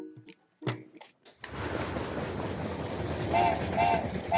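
Passing train rumbling steadily with a dense, continuous roar, faint horn-like tones rising near the end, after a few brief knocks at the start.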